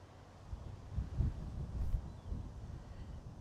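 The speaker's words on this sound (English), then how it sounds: "Windy, windy." Wind gusts across an outdoor riverbank fishing peg, a low rumbling buffet against the microphone that swells and eases in several gusts over a few seconds, with no other clear sounds.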